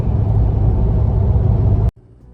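Car driving along a road toward Wellington, a steady interior engine and tyre rumble that holds evenly for about two seconds and then abruptly drops to a much quieter hum.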